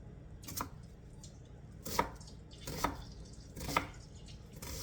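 A knife chops a golden onion on a cutting board in a home kitchen, four or five sharp, spaced strikes standing out clearly against faint background hiss.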